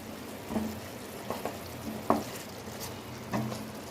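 Chicken pieces fry in a pan for Kolkata-style aloo chicken egg biryani, a quiet steady sizzle broken by occasional stirring scrapes and clinks, close and fairly soft.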